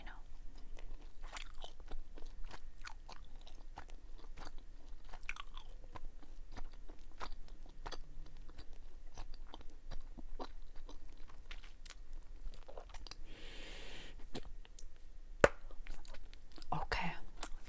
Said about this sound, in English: This is a snapping gum and a bubble gum.